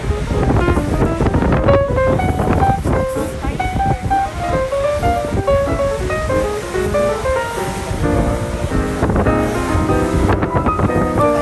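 Night wind in Tbilisi, Georgia, buffets the microphone with strong, steady rumbling gusts, while music with a melody plays nearby throughout.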